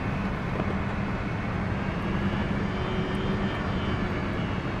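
An airliner's engines in X-Plane 11 hold a loud, steady, broadband roar during the climb after takeoff, continuous with no breaks and no talk over it.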